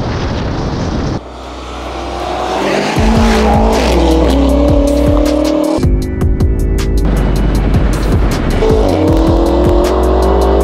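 A BMW M5 F90 with 617 hp races a 670 hp Tesla: a loud engine roar rises through the revs, with abrupt gear shifts and repeated climbs in pitch, heard close and alone.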